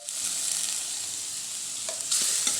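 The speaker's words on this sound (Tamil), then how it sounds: "வெங்காயம் வதங்கிடுச்சு." Onions with curry leaves sauté in a pan for a Tamil home lunch, giving a steady, close hiss of frying with a few scraping stirs near the end.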